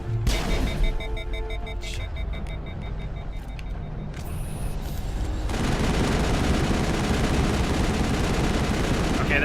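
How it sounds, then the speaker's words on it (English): The Spectre assault rifle firing in the video game Mass Effect, opening with a few shots and then settling into a loud, sustained stream of rapid fire amid a noisy battle. "that Spectre weapon is really nice, the assault rifle"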